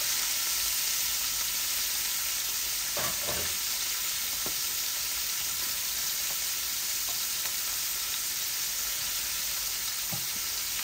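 Steady, dense sizzle of food frying in a pan on a stove, close and continuous, with a few faint clicks and scrapes of stirring along the way.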